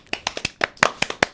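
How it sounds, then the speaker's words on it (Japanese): A small group claps hands in a short burst of about eight sharp, evenly spaced claps, close and fairly loud, with no talk. "拍手。"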